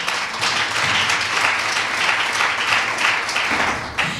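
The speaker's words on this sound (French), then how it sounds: "applaudissez pour vous-même" A live audience at a Master Class event applauds steadily for several seconds, dense clapping filling the room at a loud, even level without talk over it.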